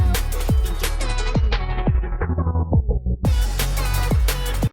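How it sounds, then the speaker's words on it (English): A thumping electronic drum loop is filtered steadily darker by a sweeping DJ-style transition effect with synced phaser automation until it nearly vanishes, then cuts back in at full brightness and stops abruptly. "And then that creates the DJ effect."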